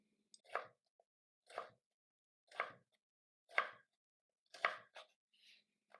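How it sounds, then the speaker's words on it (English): Knife dicing tomato on a cutting board, six crisp chopping strikes at a steady one-per-second rhythm, close and clean against near silence. "give it a small dice."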